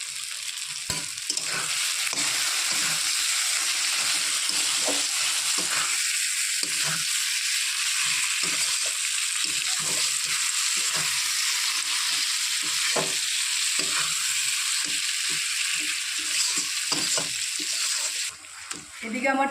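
Tomatoes and spices frying in oil in a pan for Bengali chicken kosha, a steady bright sizzle with scattered crackles and stirring scrapes throughout, fairly close.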